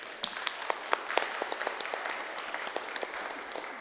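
Scattered applause at a public hearing, fairly faint, with individual claps audible and irregular within a steady patter.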